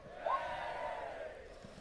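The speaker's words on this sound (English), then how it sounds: "You can get a cheer for that." A brief crowd cheer rises and fades over under two seconds, a single swelling burst of many voices whooping together at moderate volume.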